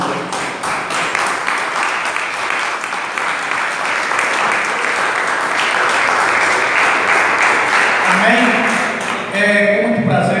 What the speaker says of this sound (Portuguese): Podeis assentar e exaltar o Rei Jesus com as palmas